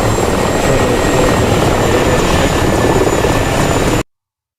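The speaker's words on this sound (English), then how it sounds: "the helicopter's just taken off" Loud, steady rotor thump and engine whine of a helicopter lifting off in a flight simulator game, constant and close before cutting off abruptly.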